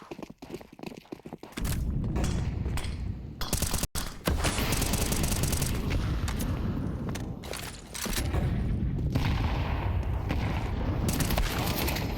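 Counter-Strike 2 rifle fire in a pro match sprays through smoke: sparse sharp shots at first, then sustained loud bursts of automatic fire over a dense rumbling bed, briefly cut and resumed.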